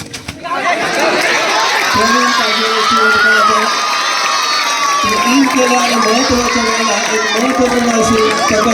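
Spectators at a kabaddi semi-final match cheer and shout loudly, with a dense crowd roar and excited high voices sustained throughout, close and continuous.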